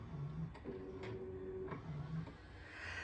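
A 3D printer fitted with an AMS four-spool colour changer runs nearby, giving a quiet mechanical whir with stepper-motor tones that rise and fall in short phases.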